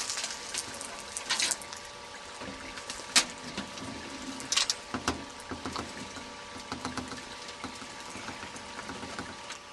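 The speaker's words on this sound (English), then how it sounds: "Take your ashes and pour them in all around the stovepipe on the inside of the can." Ashes are poured into a tin can around a stovepipe for a homemade rocket stove, giving a continuous gritty rustle and scraping with scattered small clinks and taps close by.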